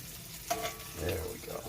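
An egg sizzles quietly in a new Lodge cast iron skillet sanded smooth inside, with a soft stir or scrape and a low, steady frying hiss close by.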